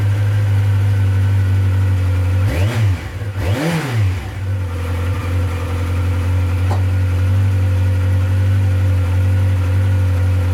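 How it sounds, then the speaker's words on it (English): A Yamaha XJR1300 motorcycle with overhauled carburettors idles on choke close by, blipped twice in quick revs before settling back to a steady, loud fast idle. "Revs still on the choke."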